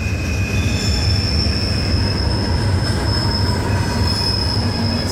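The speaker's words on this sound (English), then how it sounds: "Same train that I was on after I walked 3 miles" A freight train rolls past near State Bridge, Colorado, its wheels squealing in a sustained high, steady whine over a loud, continuous rumble of railcars for the full stretch, with no voices.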